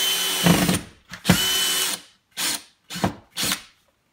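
A drill drives screws into drywall in a series of short, loud whirring bursts: two longer runs followed by three quick ones, close by and separated by silence.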